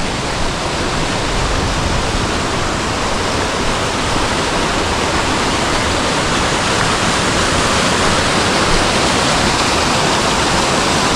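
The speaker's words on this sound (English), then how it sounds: "Seeing a pretty little waterfall," A small waterfall on the Pacific Crest Trail near Sonora Pass, rushing in a steady, dense, loud broadband roar close by, unbroken for the whole stretch with no voices.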